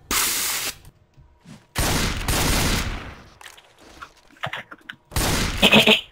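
Gunfire in the video game Left 4 Dead 2: three loud bursts of rapid shooting separated by quieter gaps with scattered clicks and smaller game sounds.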